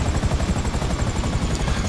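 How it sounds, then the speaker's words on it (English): A personal helicopter idles nearby in GTA 5, its rotor thumping in a fast, steady pulse with a constant engine whine, loud and close with no talk. "So we've got our personal helicopter here, so it should be fine to wait for us."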